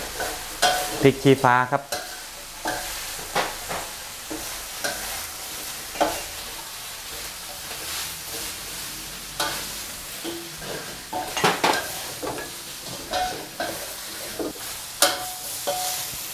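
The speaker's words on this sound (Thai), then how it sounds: "ปลาดุกที่ทอดไว้ครับนำลงคลุกเคล้าเลย" Crispy fried catfish being tossed in a wok for a spicy southern-style curry-paste stir-fry, with steady sizzling and repeated metallic clanks and scrapes of the spatula. Someone speaks briefly near the start.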